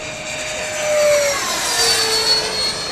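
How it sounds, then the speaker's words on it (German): A wooden 8 kg electric ducted fan model F-104 Starfighter with a 120 mm impeller passes overhead, its loud whining jet rush swelling and falling with a Doppler-shifted tone as it flies by alone. "Überflug unsauber mit allem draußen, was man raushängen kann an einem Flugzeug."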